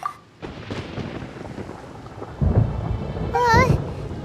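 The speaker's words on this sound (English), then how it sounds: "Paimon hears thunder!" Thunder from a thunderstorm in the video game Genshin Impact, a low rumbling swell building through the second half, with rain-like noise and game sound effects layered over it.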